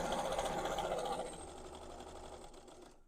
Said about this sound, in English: I'm going to start at this side and I'm going to stitch around to this mark over here